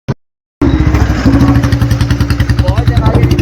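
A motorcycle engine starts after a brief click and then runs loudly and close at a fast, steady idle with a rhythmic pulsing thump at a moto fest, with someone talking over it.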